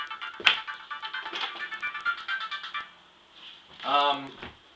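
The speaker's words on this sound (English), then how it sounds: "Oh, my phone's ringing." A phone ringtone plays a bright repeating melody up close, then a person speaks briefly as it stops.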